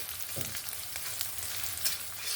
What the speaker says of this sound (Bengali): ভালো করে ভেজে নেব রসুনটা, যতক্ষণ না সুন্দরভাবে ভেজে যায়।